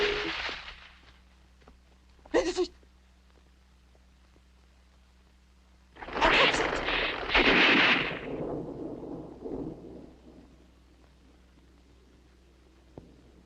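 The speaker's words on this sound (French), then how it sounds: "Qu'est-ce que c'est? Un coup de feu." A sharp gunshot bang rings out, then a few seconds later a longer, louder blast rumbles and slowly fades, with no one talking.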